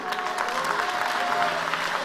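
A church congregation applauds for Jesus with dense, even clapping. It holds steady through the short span with a faint tone underneath.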